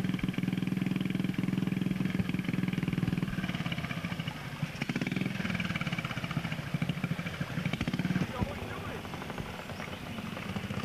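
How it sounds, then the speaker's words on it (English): A Triumph twin motorcycle races on a rough hill course, its engine droning steadily and loud with surges in pitch while a commentator talks over it. "Here's a Triumph Twin, ridden by John Patefield."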